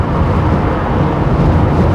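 Constant low rushing wind noise inside a Smart Roadster (W452) cruising at about 50 mph, loud and steady with no talking.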